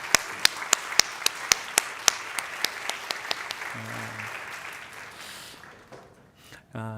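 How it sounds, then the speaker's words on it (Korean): Congregation applause in a church youth service, a run of sharp, evenly spaced claps that slow and fade over several seconds, followed by a short murmur of voices and a low tone. "우리 한번 뜨겁게 박수로 격려하겠습니다."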